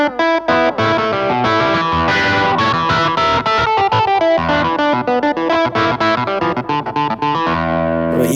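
A Yamaha Montage M clavinet patch played through a distorting amp model, a bright, gritty funky riff with chorus-like shimmer, loud and up close, the notes plucked in quick rhythmic stabs with no talking.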